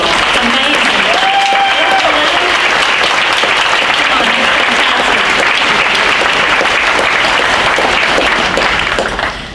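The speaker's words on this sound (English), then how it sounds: "let's give a big round of applause" A crowd at an honors night ceremony gives loud, steady applause that goes on for nearly ten seconds, with cheers and voices mixed in, before it tapers off at the end.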